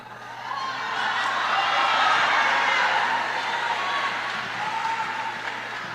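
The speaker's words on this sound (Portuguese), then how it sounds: "Palma michuruca não, se é para aplaudir é todo mundo junto de uma vez só." Scattered clapping from a church congregation during a sermon, a moderate, uneven patter that swells gently and then eases off, with no voices over it.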